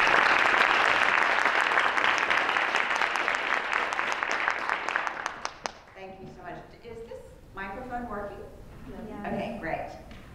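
A university lecture audience at UNC claps to welcome a speaker. Dense, loud applause lasts about five seconds, then fades as a single voice begins talking.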